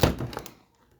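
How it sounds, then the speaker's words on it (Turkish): A window is pulled open with one sharp, close thunk and a brief rattling knock, which die away into quiet within half a second. "Açalım şimdi camı."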